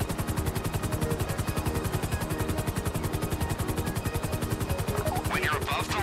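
Helicopter in GTA 5 Online hovering during a heist finale at the Humane Labs, a steady loud rotor chop with a fast regular beat throughout, joined by a burst of gunfire near the end.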